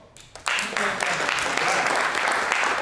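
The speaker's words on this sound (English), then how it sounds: "Now, who has never been to a CPT show before? Round of applause." Applause at a comedy show: after a quiet start a few claps pick up, then the crowd breaks into loud, sustained clapping that carries on steadily to the end.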